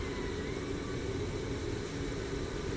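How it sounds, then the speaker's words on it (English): Distant, steady drone of an airplane engine in Microsoft Flight Simulator 2024 at an airport runway hold, a low continuous rumble with faint noise and no speech. "Is there a plane coming in? I hear a plane."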